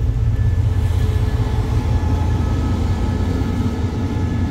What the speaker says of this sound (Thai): ขับรถด่วน83เทียบชานชาลา2สถานีบ้านโป่งครับ